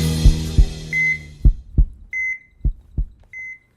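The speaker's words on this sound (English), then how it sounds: "That's a really strong heartbeat." A strong, deep heartbeat thumps in close, loud pulses with a regular double rhythm, while electronic monitor beeps sound between the beats.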